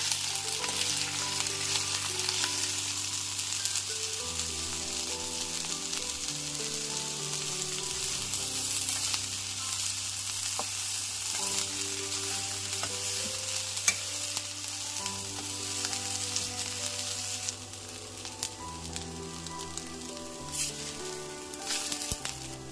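Coriander and curry leaves fry in hot oil with a steady, dense sizzle that runs throughout, interrupted by occasional stirring scrapes in the pan.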